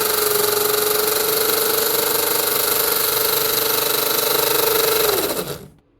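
Tamiya Bruiser RC truck's three-speed gearbox and motor running steadily for about five seconds, a loud constant whine with buzzing harmonics, then spinning down and cutting off.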